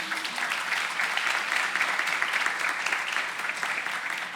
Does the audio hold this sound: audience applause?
yes